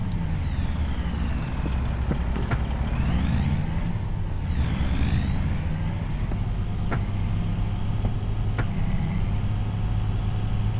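An International semi-truck engine idles and runs steadily with a deep, continuous rumble, close by on a farm, with occasional higher whines and clanks over the constant drone.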